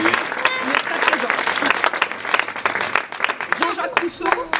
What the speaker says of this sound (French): Vous pouvez l'applaudir aussi parce qu'il est très présent.